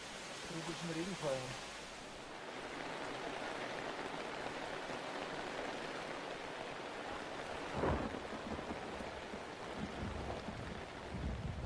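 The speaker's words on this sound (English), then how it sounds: "The first tropical storm hits the half-built camp with full force." Heavy tropical rain hisses steadily over a camp on Acopan Tepui, with a rumble of thunder and a brief crackle partway through, faint murmurs beneath.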